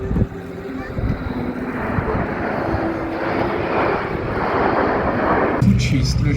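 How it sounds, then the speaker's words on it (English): Large planes pass overhead at low altitude during an air festival, a broad, steady engine roar with wind buffeting the microphone throughout, ending in a brief change of sound near the close. "even these big planes fly at a very low altitude, so we can get a good look at them"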